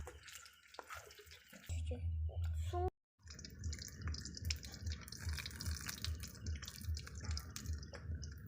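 Water runs from a tap at a street-food cooking stall, a steady splashing flow that cuts off briefly and resumes, heard up close with voices talking over it.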